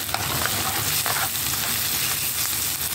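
Okra with meat being stirred as it fries in a pan, a steady close sizzle with scraping stir strokes throughout, no talking.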